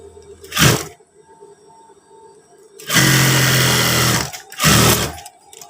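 An electric sewing machine stitches trouser pocket flaps in three bursts: a short one, a longer steady run, then another short run, each loud and close with near silence between.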